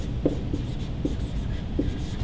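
A red marker squeaks across an organizational chart in a few short separate strokes, close and fairly quiet over a low background hum, with no talk.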